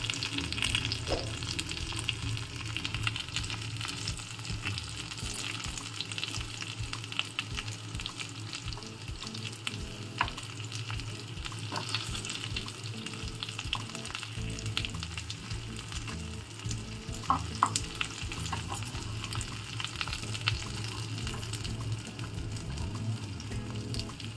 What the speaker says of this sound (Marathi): फ्लेमवर आपण ही व्यवस्थित दोन्ही बाजूने शेकवून घ्यायची आहेत, लालसर करून घ्यायची आहेत